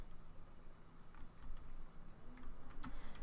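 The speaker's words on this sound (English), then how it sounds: "I know I'm not typing it right." Someone types a search on a computer keyboard, a quick run of soft, irregular key clicks at close range against a low background hum, with no one talking.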